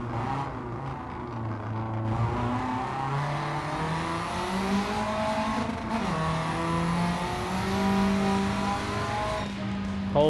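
Race car engine in Gran Turismo 7, roaring steadily and close with rising and falling revs through gear changes, a continuous loud drone throughout with brief tire squeal.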